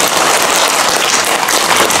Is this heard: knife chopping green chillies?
no